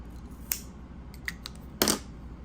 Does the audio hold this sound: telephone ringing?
no